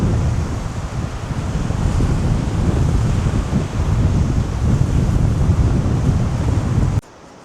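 Strong wind buffets the microphone with a loud, continuous low roar and rumble, cutting off abruptly near the end, on the island of Krk, Croatia, in late October.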